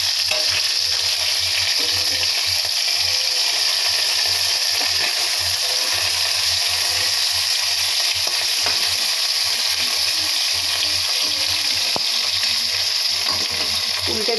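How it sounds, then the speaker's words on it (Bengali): Hilsa fish pieces frying gently in oil with black cumin scattered in, giving a continuous, even sizzle up close with a faint low hum running underneath throughout. "মাছটা খুব হালকা করে ভাজবো।"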